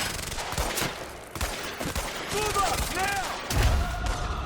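Gunfire crackles in bursts during a fight with a heavy gunner in Quantum Break, fairly close and mixed with a voice speaking over the shots.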